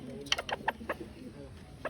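A chicken gives a short series of soft, close clucks in an uneven rhythm over a quiet background.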